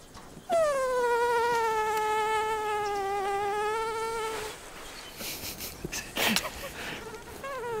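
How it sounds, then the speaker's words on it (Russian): A loud, close mosquito whine drones steadily with rising and falling pitch for about four seconds, then cuts off, followed by faint rustling and scattered small noises. "комара разбудишь"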